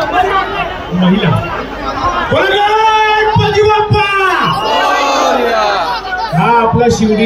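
A crowd at the Lalbaug Parel Dahi Handi festival, loud voices shouting and chanting together in rising and falling calls, with overlapping chatter throughout.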